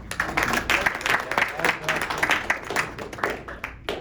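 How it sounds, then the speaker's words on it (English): Audience applause for Becky, a volunteer called to the front at a regenerative farming gathering: steady dense clapping from a room of people for about four seconds, close and lively, with voices mixed in. "let's give a round of applause for Becky"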